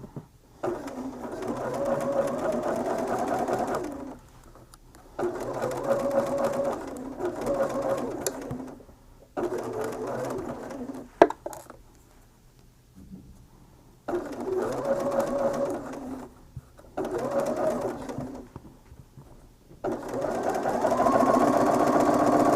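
A sewing machine stitching quilt pieces together runs in repeated steady whirring bursts of a few seconds each, separated by short quiet pauses.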